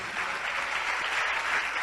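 A church congregation applauds, a dense, even wash of many hands clapping at once, close and sustained with no voices on top.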